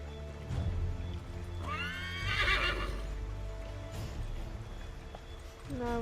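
A horse in the Assassin's Creed III video game gives one clear, drawn-out whinny midway, over a steady background of game ambience and scattered hoof clip-clops.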